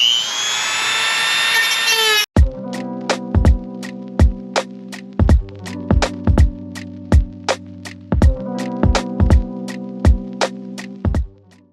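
A power saw cuts a traced, clamped-down piece for a Toyota Tacoma truck bed floor, loud and close in a series of sharp, repeated cutting bursts after a brief high whine at the start.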